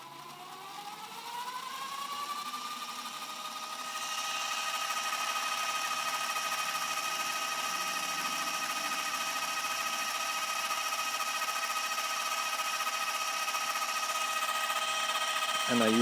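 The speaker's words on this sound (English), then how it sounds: "And now we can wind and rewind this tape." A Philips Turbodrive tape transport spins up as it winds and rewinds tape, its motor whine rising in pitch during the first few seconds and then holding a steady, close whirring hum with no talk.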